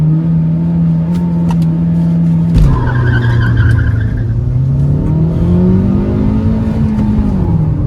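A Kia Seltos and a Honda WR-V launch together in a drag race: a steady loud engine drone breaks into a sudden surge, with tires squealing and revs climbing and wavering close by.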